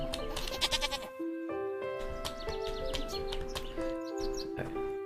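Goats bleating in a video game, a string of wavering, nasal cries over background game music, fairly quiet and continuous.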